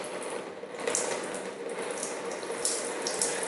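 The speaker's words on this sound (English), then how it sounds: "when I have drained out all of these oils" Transmission oil drains steadily from a Toyota Camry, a continuous hissing, splashing liquid flow at moderate level with occasional faint metallic clicks, no voices.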